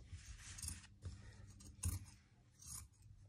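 Scissors snip open an old jersey in three or four close, crisp cuts with short gaps between them, faint overall.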